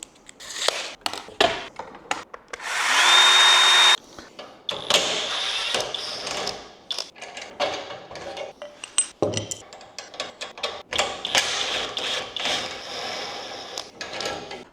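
A ladder leveler rod being cut to length, with a loud grinding cut lasting a couple of seconds, followed by scattered clinks, scrapes and handling knocks at close range.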